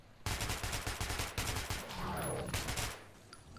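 Rapid gunfire in the video game Metro 2033 Redux, a close, loud burst of repeated shots in quick rhythm that tails off into quieter echoing reports, with no voices over it.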